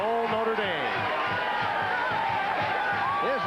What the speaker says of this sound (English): the thunderous crowd is getting into it